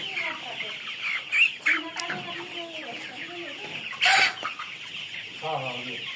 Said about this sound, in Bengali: এইখানে এই যে সাদা মুরগিগুলা দেখেন, মনে হচ্ছে যেন পোল্ট্রি মুরগি, ব্রয়লার মুরগি